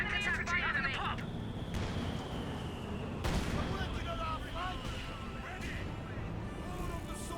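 A quad half-track's anti-aircraft guns fire on German Grenadier infantry in Company of Heroes 2, with rattling bursts and distant booms in a busy battle soundscape beneath a commentator's steady talk.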